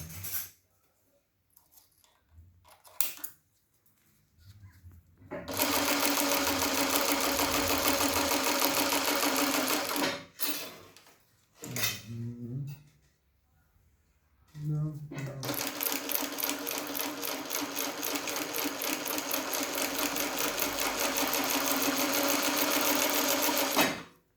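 A Highlead GC 2698-2BZ industrial sewing machine stitches through eight layers of furniture faux leather in two long, steady, loud runs of rapid needle hammering. Speech and handling noises fill the pauses between runs.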